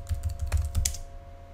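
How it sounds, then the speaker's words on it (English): Password being typed on a computer keyboard, a quick burst of about five soft key clicks close by, then the keystrokes stop and near silence follows. "Typed in the password wrong there"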